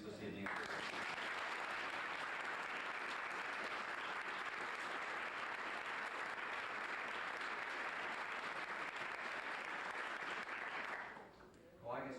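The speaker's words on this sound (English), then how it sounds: "I think we just need one last round of applause for all recipients this evening." A long, even round of applause from a civic awards ceremony audience for the evening's recipients, sustained and fairly distant for about eleven seconds before tapering off abruptly.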